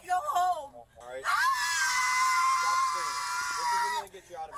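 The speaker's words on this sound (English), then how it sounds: "Stop screaming." A woman screams in a long, shrill, sustained cry during a police arrest. The scream is close and loud, with strained talk just before and after it.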